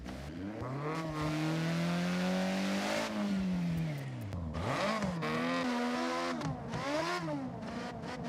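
A rotary-engined Mazda Miata in Forza Horizon revs hard, its engine note swooping up and down through several loud surges and dips, close and continuous with no talk.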